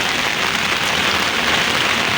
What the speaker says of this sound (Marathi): जाम पाऊस आहे, 4-5 दिवस झालं कंटिन्यू पाऊस.